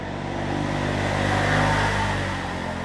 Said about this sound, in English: I'm going to get some cars picking up in the background